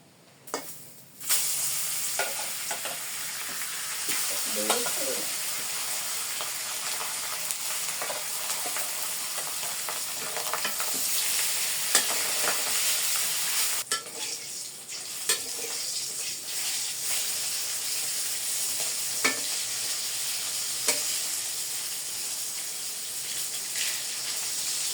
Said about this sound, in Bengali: তেল তাপে গেছে, মাছ দিয়ে দেই।